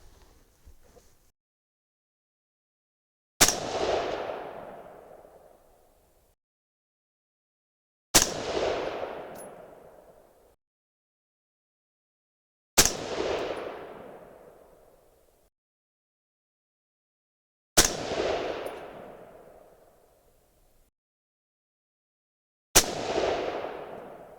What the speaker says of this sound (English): Those felt like good shots.